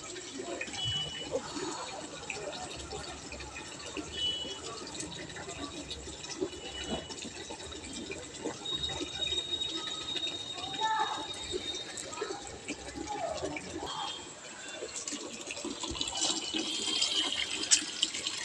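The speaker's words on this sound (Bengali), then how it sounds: "জলটা ভরছি বন্ধুরা।" Tap water pours into a bucket in a steady, splashing rush that runs throughout, while people talk over it.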